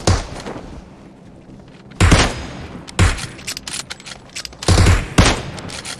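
Kar98 rifle shots ring out in a PUBG war-mode match: four loud, sharp cracks, each with a short rolling echo, spaced about a second apart after a quiet start.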